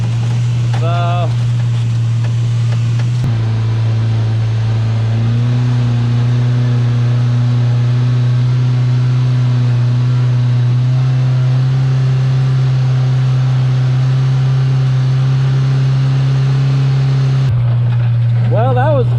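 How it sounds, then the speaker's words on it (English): A small engine running on only two cylinders makes a loud, steady low drone throughout without climbing in revs, and brief voices are heard near the start and end. "because it's only running on two cylinders, not revving high enough to get the belt engaged."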